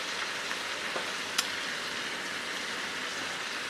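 Butter sizzles in a Dutch oven with a soft, steady crackle, broken once by a brief sharp click.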